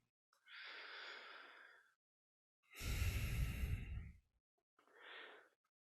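Slow breathing during a guided grounding meditation: a long soft inhale, a fuller, louder exhale, then a shorter breath, each separated by silence, close and clear with no talking.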